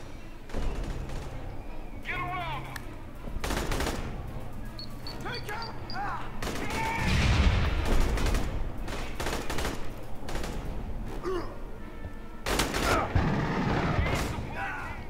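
Rapid gunfire bursts from powerful weapons in the shooter video game Aliens: Colonial Marines, loud repeated volleys with game effects and someone talking over them.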